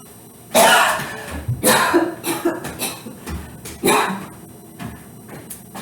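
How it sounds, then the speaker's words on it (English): Several harsh coughs burst out in a cluster, followed by a string of smaller throaty hacks, close and loud. "Don't cough over food."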